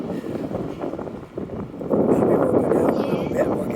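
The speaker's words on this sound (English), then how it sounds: "It's really windy down here." Wind gusting past the microphone on a walk through the South End toward Scotia Square near a city waterfront, a rough low rumble that swells louder partway through and holds.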